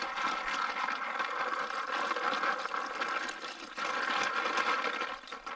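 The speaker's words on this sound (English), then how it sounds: "So I'm just going to swish this around, trying to get the fines" Gravel and water swish around in a gold pan out in the North Maine Woods, a continuous close sloshing wash with surging motion and no talking.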